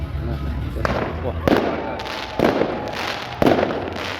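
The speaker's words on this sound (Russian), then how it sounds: "Свадебный салют. Красиво." Wedding fireworks at a banquet: three or four booming bursts about a second apart, each followed by a crackling rumble, loud and fairly close with steady background noise.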